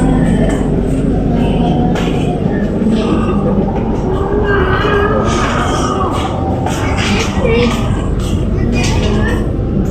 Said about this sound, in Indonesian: Tuh lokomotifnya tuh udah bergerak langsir ke timur ya.